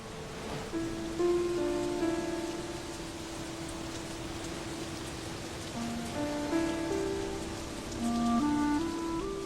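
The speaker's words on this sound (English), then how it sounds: "it started to rain" Steady rain patters on a surface, a constant hiss with scattered drops, while faint tonal notes drift in and out behind it.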